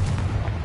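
A Confringo blasting spell cast in Hogwarts Legacy gives a short, loud, deep rumbling boom that fills the whole moment without any pause.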